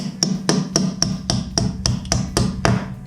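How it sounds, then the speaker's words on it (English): A series of about nine sharp taps at a steady, quick rhythm, each a crisp knock close by as Glacier Bay pedestals are tapped flush against a tiled block wall; no voices. "All you gotta do is tap them to their flush."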